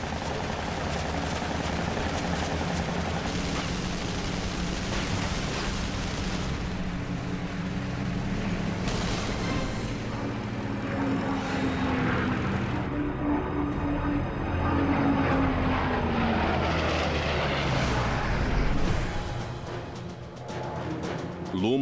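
A Junkers 52 three-engine transport plane drones overhead, its steady multi-engine roar rising and falling with a long, sweeping pitch change as it passes, loud and continuous throughout.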